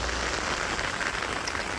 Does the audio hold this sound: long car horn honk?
no